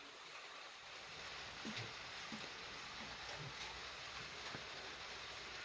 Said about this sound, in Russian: А у нас дождик пошел.